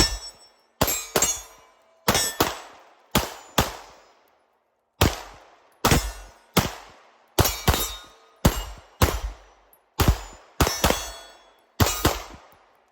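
A Sig P226 X5 Legion pistol firing 115 grain ammunition at a range, sharp loud shots in quick pairs and short strings with ringing decay and brief pauses between, no talking.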